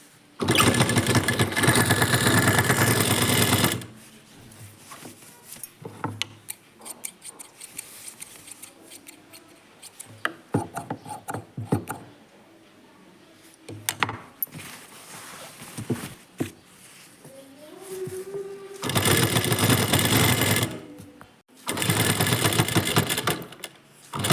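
A sewing machine stitching a churidar runs in long, loud, steady bursts at the start and near the end, with quieter handling clicks and rustles of fabric in between.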